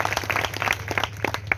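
An audience bursts into hearty applause, many hands clapping in a dense, uneven patter over a low steady hum, close and lively for a brief moment.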